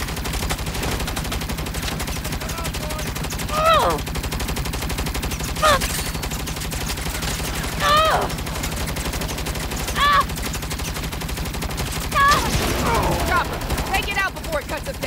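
Gunfire during a firefight in Saints Row (2022), a steady rattle of shots under a low droning score, with short voiced lines cutting in every couple of seconds.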